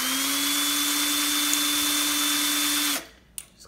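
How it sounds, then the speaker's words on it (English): A power drill whines at a steady pitch for about three seconds twisting coil wire straight, then winds down and stops, followed by a faint clink. "Just a couple times with the drill and it's straight."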